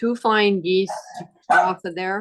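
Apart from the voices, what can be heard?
dog barking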